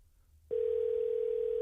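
Steady tone of an outgoing telephone call to a closed gun shop's phone line, starting abruptly after a brief quiet and holding loud and unbroken to the end with no voices.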